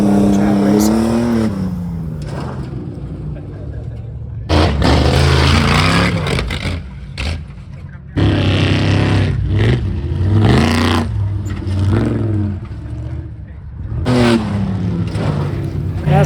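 An off-road race truck on a homemade rock obstacle course revs hard in repeated bursts, its engine roaring and dropping back between throttle blips, with people talking over it.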